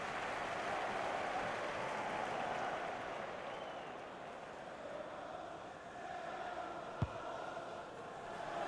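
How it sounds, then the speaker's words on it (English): The football crowd at a Bohemians versus Derry City League of Ireland playoff semi-final applauds a volley, a steady wash of distant clapping and cheering that holds throughout, then eases slightly before swelling again. "Oh, the crowd enjoyed that one on the feet."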